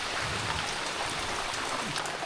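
Steady rain with wind in a Konkan forest during the monsoon makes a dense, even hiss throughout, moderately loud and unbroken, with no voices.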